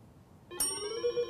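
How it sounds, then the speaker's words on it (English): A quiz-match buzzer or bell at a middle-school academic derby sounds partway through. It is a bright, sustained electronic tone that starts sharply and rings steadily to the end, with no talking. "right as the bell rang?"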